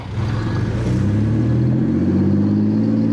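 A brand new 2021 SE Bikes Fast Ripper motorbike engine revs steadily and loudly up close as the clutch is let out, a continuous droning growl that holds and rises slightly without a break.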